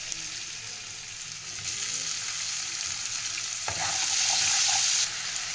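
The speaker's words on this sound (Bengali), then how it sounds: "পেঁয়াজটা ভাজতে ভাজতে দিয়ে দেবো আমি টমেটো কুচি" Onions and chopped tomato fry steadily in hot oil for a Bengali sweet-sour rui fish curry, a continuous close sizzle that swells louder partway through as more goes into the pan, with brief scraping stirs.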